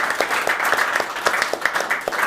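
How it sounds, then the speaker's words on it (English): An audience at a conference panel on Green IT adoption claps for a panelist, with a brisk, even patter of individual claps close by and clearly separated in rhythm throughout the short burst. "Applause for Christiaan, please."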